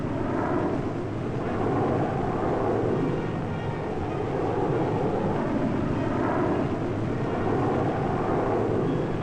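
Fighter planes from around the late 1950s roar overhead in a dense, steady wash of engine noise that swells and ebbs in waves, loud and unbroken, with no talking.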